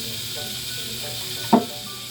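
Onion and garlic sizzle steadily in a hot pan, a close, even hiss throughout with one short clatter of a utensil near the end.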